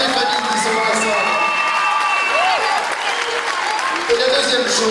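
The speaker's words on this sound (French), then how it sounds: "Merci d'applaudir toutes les familles qui sont dans la salle." A hall audience at a queen election evening in Mèze applauds the families present, with sustained clapping mixed with cheers, whoops and children's shouts, loud and continuous throughout.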